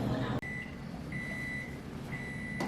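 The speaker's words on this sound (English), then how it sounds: "Timer is ended." An oven timer beeps three times, each a long steady electronic tone, faint over a low kitchen hum.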